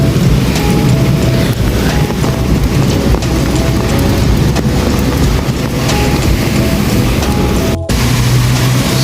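Heavy rain pours steadily onto a downtown street under cloudy skies, a loud dense hiss throughout with low rumbling that could be distant thunder, briefly dipping near the end.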